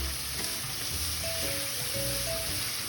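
Tomatoes sizzle in a pan with a soft, constant crackle while a utensil stirs them, bringing a few faint clinks and scrapes.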